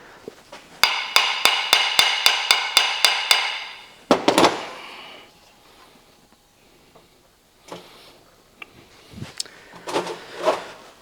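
A hammer taps an 80-year-old motor in a quick, even run of about ten sharp metallic strikes, then lands one heavier blow. Scattered softer knocks and clanks follow after a quiet gap.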